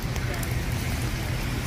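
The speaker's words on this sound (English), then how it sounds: "it's raining for real" Night rain falling on a city street, a dense, steady hiss with a low rumbling undertone, fairly loud and continuous throughout.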